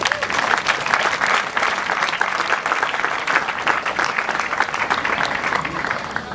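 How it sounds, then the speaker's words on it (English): Sustained applause from an audience at a university investiture ceremony for a college's fourth president, steady and dense clapping throughout with no pauses. "Please join me in a round of applause for my predecessors."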